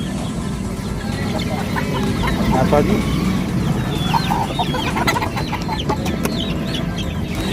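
Hens cluck and squawk repeatedly amid a busy, noisy Sunday bazaar in Shalimar Bagh, with people talking nearby over a steady crowd murmur.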